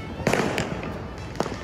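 Fireworks burst at a New Year celebration at home, with several sharp cracks and pops in quick succession, some near and some farther off, over a steady background hum.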